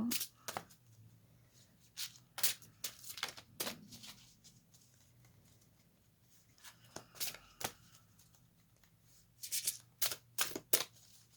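Cards from an oracle deck are shuffled and drawn by hand. Crisp riffling and flicking bursts come in clusters, with quiet pauses between them, close and clear.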